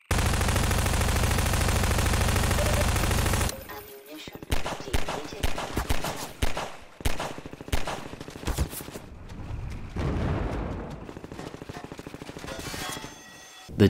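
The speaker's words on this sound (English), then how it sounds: "which is to shoot the wood structure itself." In Half-Life 2, a weapon fires repeatedly at a wooden structure, producing loud, close bursts of rapid gunfire in uneven clusters after a dense opening stretch of noise.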